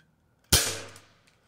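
A single sharp crack from a BB gun, close and loud, with a short decaying ring after the shot.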